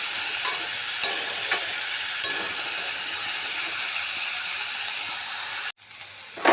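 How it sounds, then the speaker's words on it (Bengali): Steady sizzling of pumpkin frying in a pan, a continuous crackling hiss with a few louder pops, cutting off abruptly near the end. "কুমড়োটা একটু ঢেকে ঢেকে ভাজতে হবে"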